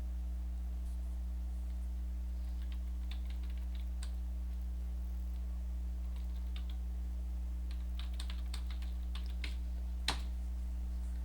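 Keystrokes on a computer keyboard while entering a Google search, a sparse run of light clicks in short bursts over a steady low hum, fairly faint, with one sharper tap near the end.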